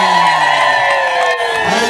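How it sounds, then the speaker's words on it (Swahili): A crowd cheers and whoops for retired Archbishop Paul Ruzoka at a church celebration where children present flowers. The cheering is loud and continuous, with shrill voices rising over the mass of sound. "makofi kwake"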